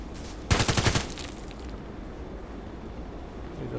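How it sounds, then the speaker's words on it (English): Burst of rapid gunfire in the Contract Wars shooter game, about half a second of quick repeated shots near the start, then a quieter game ambience for the rest. "shots are coming from the right."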